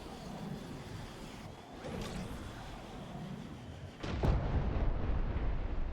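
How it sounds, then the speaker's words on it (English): Autonomous tracking missile rockets fired at an island in the TrailMakers video game, a whooshing launch building to a louder sustained rushing burst in the last two seconds, with no talking. "I'm going to shoot it at this island and you can see how it tracks."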